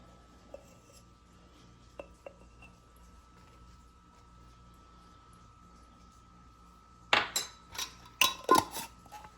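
Berries coated with a couple tablespoons of cornstarch being stirred in a bowl for a cobbler, heard as a few soft clicks followed by a cluster of close scraping, clinking utensil strokes near the end.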